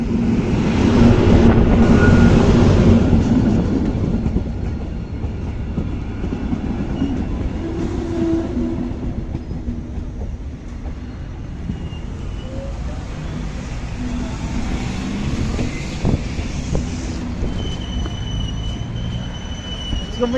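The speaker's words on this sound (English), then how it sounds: "So the 3 trains a day, here is one of them." A train pulls into a small station near Pristina, Kosovo, its rumble loudest at first, then steady rolling clatter with faint wheel squeals and metallic tones over about twenty seconds, with no talk.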